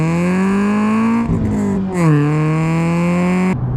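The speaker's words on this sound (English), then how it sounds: "a mildly warm hatch with a loud exhaust" Loud, close engine drone from a budget hot hatch with a loud exhaust, revving steadily with pitch dips and rises mid-way before holding a sustained tone, no talk over it.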